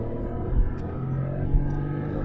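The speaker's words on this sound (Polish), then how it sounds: "Ale słychać silnik z tyłu." Rear-mounted 0.9 turbo engine of a Smart Fortwo (90 hp) driving in Sport mode, a steady low engine drone with road rumble and a couple of soft thumps, no talk over it.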